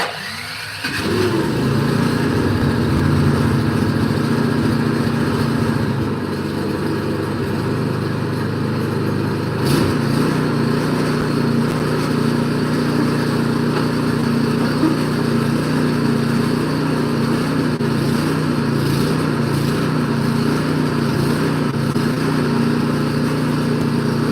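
A combined Craftsman and Troy-Bilt snow blower engine is pulled to life with choke and throttle set, catching after a second and settling into a loud, steady running drone that continues close by with no talk.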